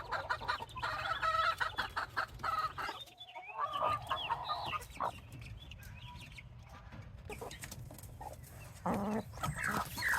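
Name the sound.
chickens clucking in a backyard flock with new chicks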